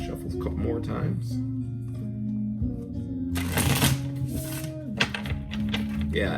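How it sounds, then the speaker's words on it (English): A deck of cards is riffled and shuffled up close in a couple of crisp, fluttering bursts, with a person talking throughout. "Shuffle a couple more times."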